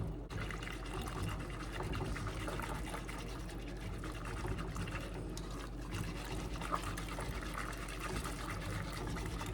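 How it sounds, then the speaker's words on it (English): Milk and dissolved chocolate tablet are stirred in a pot over low heat, giving a steady, quiet liquid swishing and sloshing that runs continuously with faint background hiss. "Mixing until it's dissolved."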